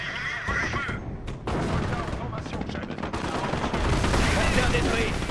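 Rapid gunfire and explosions from Company of Heroes battle play continuously and loudly, with bursts growing denser toward the end, while someone talks excitedly over the combat.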